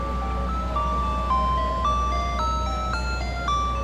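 Jingle melody from an ice cream truck parked in a Washington DC street, a bright tinkling tune stepping through repeated notes over a steady low engine hum, moderately loud and close.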